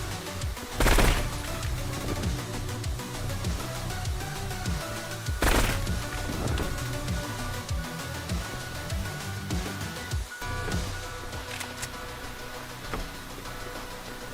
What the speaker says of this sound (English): AK with the suppressor